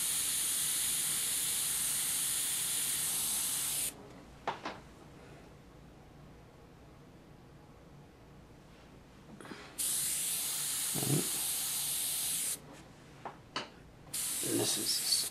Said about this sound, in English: let's just create a little texture in here with the airbrush itself